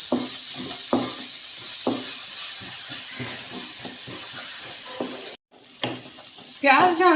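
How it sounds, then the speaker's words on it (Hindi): Chopped onions sizzle steadily in a hot pan while a spoon scrapes and stirs in short repeated strokes, close and constant, with a brief cutout and a clatter near the end. "ये इसके अंदर हम ऐड करेंगे और इसको हम सॉफ्ट होने तक पकाएंगे प्याज को"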